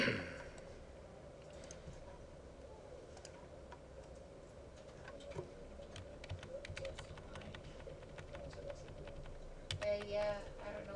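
Light tapping on a computer keyboard while entering a network traffic filter, faint scattered keystrokes over a steady hum in a lecture room, with speech briefly audible.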